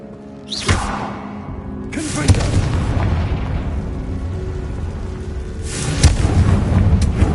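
Bombarda spell explosions in Hogwarts Legacy: sharp booming bursts at the start and again near the end, each followed by a rumbling, crackling tail of debris.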